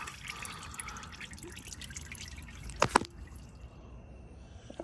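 Motor oil drips from a car's open drain plug into a catch pan, faint scattered drips over a quiet background with a brief louder splash partway through.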